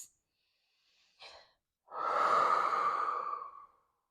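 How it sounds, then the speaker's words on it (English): During a lunch-break standing yoga session, close-miked breathing sounds: a short sniff, a brief inhale, then a long, steady, airy exhale lasting about two seconds in otherwise quiet surroundings. "Take a couple breaths."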